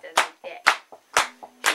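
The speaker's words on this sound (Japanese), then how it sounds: "皆さんに 弱拍です。 手拍子をいただいて、" Audience at a Setagaya live music show clapping along on the offbeat: five or six sharp, loud hand claps in a steady, evenly spaced rhythm, heard close and alone without talk.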